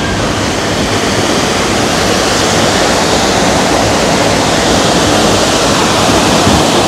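Water splashes and rushes loudly and continuously at close range during a log flume ride at Siam Amazing Park in Bangkok, a dense unbroken roar with no talk.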